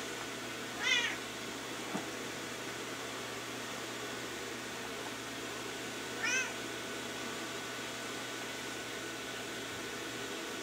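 A domestic cat meows twice, clear and fairly close, with a long gap between the calls, over a steady hum of bench electronics and fan noise in a room where a crystal tester is being worked on.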